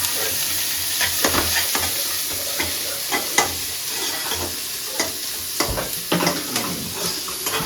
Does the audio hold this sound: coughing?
no